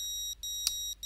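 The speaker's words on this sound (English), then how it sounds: "voltage alarm was going off" High, thin electronic beeps from a drone battery's low-voltage alarm sound in a quick repeating pattern, faint but clear against a quiet background hum.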